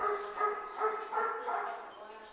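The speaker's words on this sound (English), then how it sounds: "Here's the dog sound." A recorded dog barking plays from a Google smart speaker indoors, four evenly spaced barks at moderate volume with a slightly thin, speaker-like tone.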